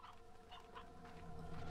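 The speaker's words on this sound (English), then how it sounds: "Look at all those chickens." Chickens in the video game Slime Rancher 2 cluck and murmur softly in a low, continuous layer, several birds overlapping with small repeated calls over a steady game ambience.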